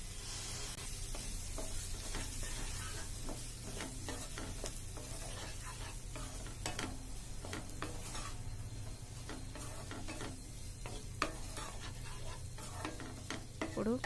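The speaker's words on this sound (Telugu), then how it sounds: "ఈ కాలీఫ్లవర్ ముక్కల్ని దీంట్లో వేసి కాసేపు ఫ్రై చేసుకోవాలి" Cauliflower pieces frying in a pan with turmeric, giving a constant close sizzle with intermittent stirring scrapes and light clinks of a spatula against the pan, no talk.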